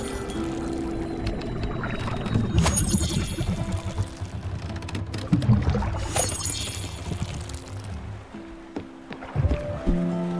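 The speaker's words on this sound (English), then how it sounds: "I'm gonna go water plants real quick." Plants being watered in the video game Spiritfarer produce splashy pouring and watery swishes in bursts, over a low drone and ambient game tones, fairly loud and close.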